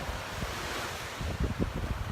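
High-tide sea waves wash against the shore opposite a home in Thailand, a steady surf roar with gusty wind buffeting the microphone and a few heavier surges toward the end.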